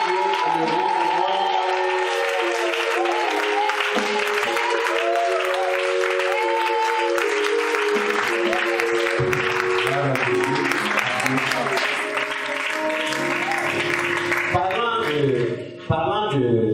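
A church congregation applauding to acclaim God: dense, sustained clapping with voices and tonal sounds mixed in, fading out abruptly near the end.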